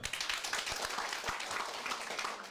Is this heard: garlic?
no